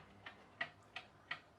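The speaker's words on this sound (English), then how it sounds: "The ticking noise is that clock." An old charity-shop wind-up clock ticks quietly in a room, four evenly spaced soft ticks with no talk, faint and close.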